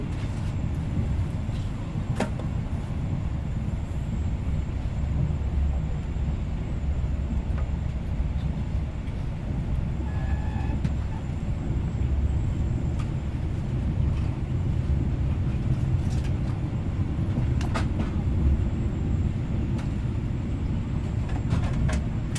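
Southern Peninsula express train running in Malaysia, a steady low rumble and rolling hum from inside or beside the moving train, continuous and even throughout with a few faint clicks and tones over it.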